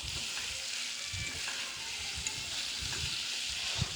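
Chicken sautéing in a small amount of oil with spices, a steady close sizzle broken by soft rhythmic stirring scrapes, no voices.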